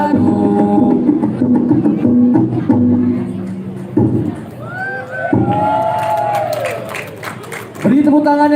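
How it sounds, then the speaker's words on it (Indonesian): A festival crowd at the Nyambai Festival Sekala Bekhak in West Lampung, heard while music and singing play. Cheering and applause rise together in a loud, busy wash, with shouting voices mixed in. "Beri tepuk tangan yang meriah untuk nomor urut 30."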